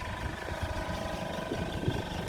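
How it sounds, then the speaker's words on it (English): The 1100 engine of a 1985 Ford Fiesta Mk2 1100L idles smoothly with a low, steady, fairly quiet hum and a faint regular throb, heard on its own without voices. "Engine's like a little sewing machine. There's no tappet noise, there's no rattles, there's no pinks."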